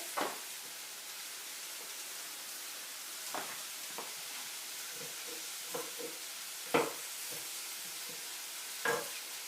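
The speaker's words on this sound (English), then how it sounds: "While my stir fry is cooking, I'm going to lower the heat" A vegetable stir fry sizzles steadily in a hot pan, a constant close hiss broken by occasional scrapes and taps of a utensil. No one speaks.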